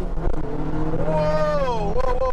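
A Talbot Sunbeam Lotus engine is opened up from about 3,000 rpm in second gear, its loud, close tone rising in pitch as it accelerates, dipping briefly and climbing again.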